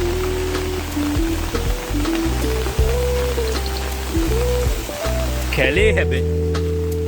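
Steady rain falls on a wet outdoor path, a constant dense hiss under continuous talk from a person walking.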